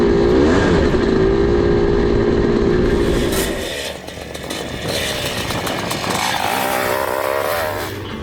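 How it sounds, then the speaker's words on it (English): A loud Husqvarna WR430 off-road motorcycle engine drones close by, buzzing steadily and then shifting pitch as it revs up and down. "riding an off-road motorcycle"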